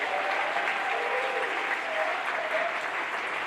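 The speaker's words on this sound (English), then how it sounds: "Let's give them a huge round of applause" Audience applause at an address event, a steady full round of clapping at moderate loudness lasting a few seconds, with faint voices murmuring beneath it.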